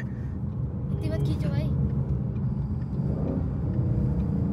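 A Ford Mustang GT engine pulls hard under acceleration on a road, a loud, steady low rumble and whir heard from inside the car, with people talking over it.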